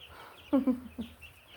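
Eight-day-old meat chicks in a flock give a few short, soft clucks and chirps close by, spaced irregularly over a quiet background.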